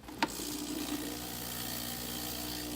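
A Breville espresso machine dispensing hot water: a sharp click, then a steady low pump hum with faint flowing water, alone and even in level.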